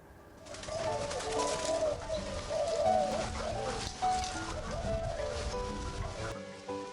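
Spotted doves coo steadily at a breeding farm in Kebumen, Central Java, where hundreds are kept. The soft, repeated calls overlap into a continuous chorus at moderate distance, with other birds clucking in the background.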